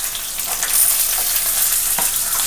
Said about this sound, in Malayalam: എന്നിട്ട് നന്നായിട്ടൊന്ന് വഴറ്റണം കേട്ടോ. നന്നായിട്ട് വഴറ്റിയെടുക്കുക.